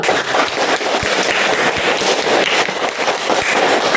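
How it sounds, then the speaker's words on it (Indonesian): Students in a classroom clap together in a lively, close burst of applause that holds steady for several seconds, with a few sharper individual claps standing out from the rest. "Tepuk tangan dulu."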